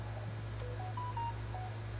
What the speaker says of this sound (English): my phone's blowing up